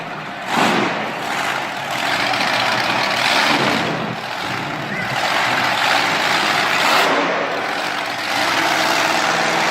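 Monster truck engine roars loud and steady through a wheelie run at a Monster Jam arena show in Pittsburgh, with crowd din blended in and no clear talk.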